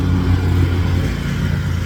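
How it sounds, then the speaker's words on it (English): A lawn mower engine running steadily and loudly nearby, a continuous low droning hum with no pauses. "Here comes the mower again."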